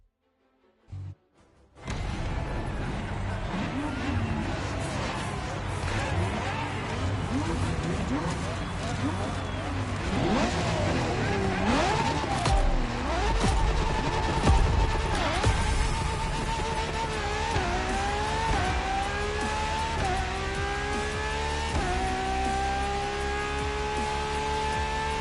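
LaFerrari supercar in The Crew Motorfest, its engine revving and sweeping up and down through gears for a long stretch, loud and close, with tire noise and a voice speaking over it.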